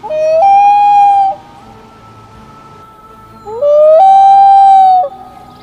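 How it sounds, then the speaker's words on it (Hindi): Loon's long wailing call, two loud, clear, mournful notes, each rising then holding steady for about a second, separated by a quiet pause. "नंबर 2, लून बर्ड। इस पक्षी की आवाज कुछ ऐसी है।"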